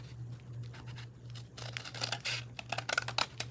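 Folded journal paper being trimmed along its bottom edge, heard as quiet crisp crinkling and snipping bursts that grow denser in the second half, steady low hum underneath.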